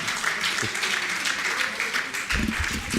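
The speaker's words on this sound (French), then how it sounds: "on peut les applaudir" Audience applause at a gathering, a dense, steady patter of many hands clapping that fills the whole stretch, with a swell of louder clapping near the end and some voices mixed in.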